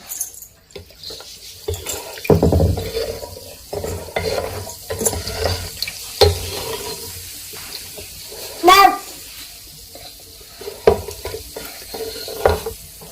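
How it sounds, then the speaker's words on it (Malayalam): Fermenting rambutan wine stirred in a container, with sloshing, wet swirling and occasional knocks of the spoon against the vessel, sharp splashy bursts between quieter gaps, and a voice talking at times. "നമുക്കിതിനെ ഒന്ന് ഇളക്കി കൊടുക്കാം"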